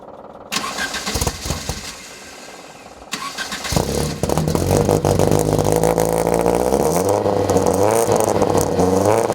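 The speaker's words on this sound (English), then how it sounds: "I love the exhaust note. It sounds fabulous for a four-cylinder." A 1967 Alfa Romeo GTV four-cylinder engine with a muffler cranks and fires up, then revs with a throaty, rising exhaust note that grows loud and steady up close.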